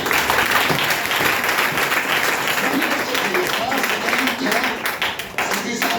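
An audience at a student success event claps hard and continuously for several seconds, a dense close burst of applause with speech mixed in.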